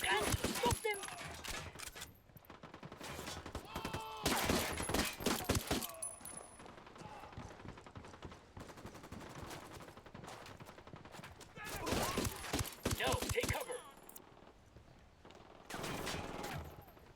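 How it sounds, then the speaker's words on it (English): Gunfire in the video game Ghost Recon Wildlands, dense bursts of rapid automatic shots in several clusters with quieter stretches between, mixed with in-game voices. "I'm opening fire."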